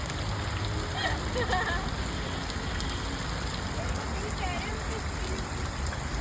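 Rain begins falling outdoors in a steady, close patter on surfaces, with a voice speaking faintly under it.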